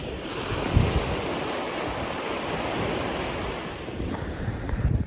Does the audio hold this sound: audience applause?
no